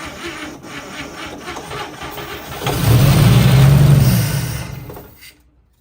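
A 1955 Chevy engine, parked for 40 years, cranking over without firing, a rhythmic starter churn that swells louder in the middle and then cuts off abruptly into silence.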